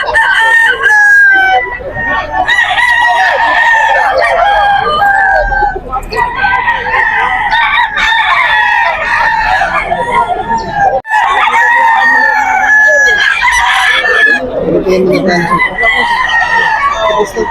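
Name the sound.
many roosters crowing and clucking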